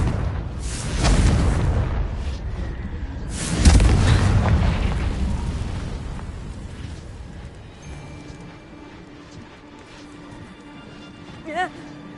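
Explosive Confringo spell blasts in the Hogwarts Legacy video game, two loud booming bursts a few seconds apart with rumbling decay, followed by quieter game ambience and a small pop near the end.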